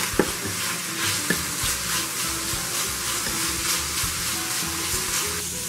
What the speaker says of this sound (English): Okay, I've got that bacon going.